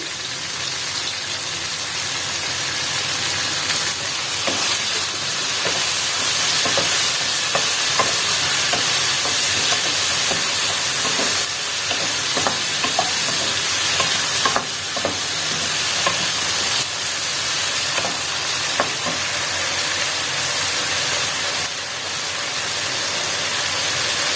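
Vegetables for a Tamil fish curry sizzle and crackle in a hot pan, a loud, continuous frying hiss with intermittent scraping stirs, close up and without speech.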